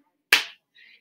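A single sharp pat of hands slapping the legs, done as body percussion, lands close and crisp with a quick decaying tail, followed by a faint, brief rustle.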